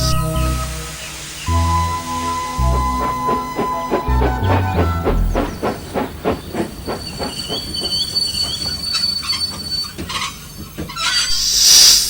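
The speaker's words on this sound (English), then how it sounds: "One evening, Thomas brought his last train to the junction" A steam locomotive hauls a train toward a junction, chuffing in a steady rhythm that quickens, with hissing steam, clanking wheels, a ringing whistle-like tone, and a sharp steam burst near the end, loud and close.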